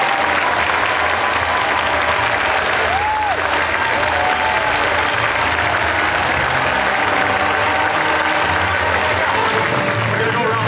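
Dense, sustained audience applause filling a large hall at a Star Wars Celebration panel for Walt Disney Imagineering and Lucasfilm, loud and continuous throughout with cheering mixed in.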